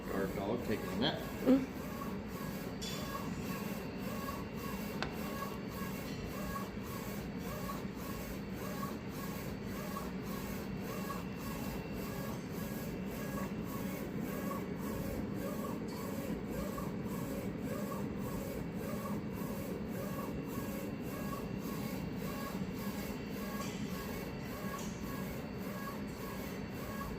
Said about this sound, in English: for a 13-inch wide printer, it prints relatively quickly